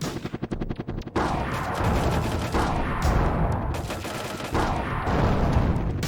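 Gunfire in a Sega Saturn game: a quick rattling burst of rapid shots opens, followed by repeated heavy blasts and sustained bursts of fire that keep coming, loud and close, with no voices.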